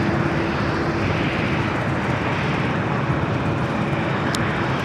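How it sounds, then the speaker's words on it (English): An Air Canada Dreamliner taxiing on the south side of LAX, turning toward Terminal 6, gives a loud, steady jet engine roar with broadband rumble that holds even throughout, no voices over it. "Air Canada Dreamliner making those turns, heading into Terminal 6 here on the south side of LAX"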